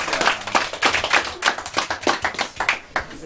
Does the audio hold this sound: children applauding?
yes